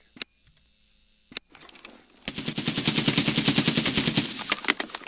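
After a couple of sharp clicks, a SCAR-L rifle in Escape from Tarkov fires a steady, rapid full-auto burst of around twenty loud, close shots, with no speech.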